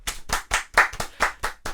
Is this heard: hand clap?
yes